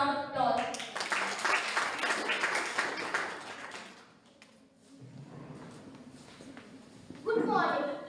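Brief round of clapping from a school audience at an inter-school English elocution event, greeting the next participant; the clapping starts loud and fades, and a young voice starts speaking near the end.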